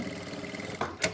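A sewing machine briefly stitches palazzo pant fabric along a marked line, a short steady mechanical whir that ends in a sharper burst.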